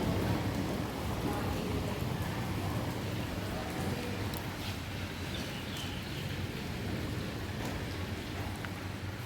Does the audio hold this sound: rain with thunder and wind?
yes